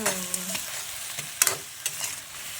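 Crab cooking with ginger sauce in a pan makes a steady sizzle, with close scraping stirs and a few light utensil clinks.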